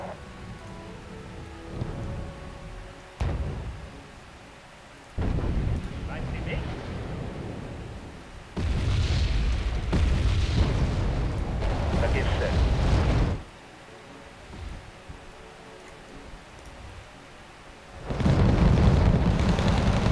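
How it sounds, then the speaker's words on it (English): Bombing-run explosions in the Wargame Red Dragon video game come as several long, heavy rumbling blasts with broad rushing debris noise. They are loud and sustained, separated by quieter gaps, and voices talk between them. "Bombing run was technically unnecessary"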